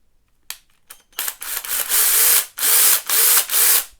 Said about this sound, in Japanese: 今回はこちらのミニチュアのチェーンソーを、紹介させていただきました